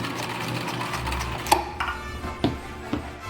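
A sewing machine stitching a half-inch side seam on a craft apron, producing a close, steady mechanical whir broken by a few sharper clicks and knocks.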